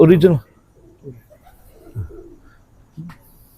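A brief voice opens, then soft, low coos from Ali breed pigeons follow in a few separate murmurs, close by and fairly quiet.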